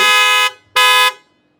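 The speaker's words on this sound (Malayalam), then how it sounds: "ഇതുപോലെയുള്ള ഒരു ഹോൺ ഹെല്ലയുടെ ഹോണാണ് നമ്മൾ ഫിറ്റ് ചെയ്തിരിക്കുന്നത്" Two loud, long blasts from a Hella car horn fitted on a Maruti Suzuki Invicto sound with a short gap between them, close and alone, the second cutting off more cleanly.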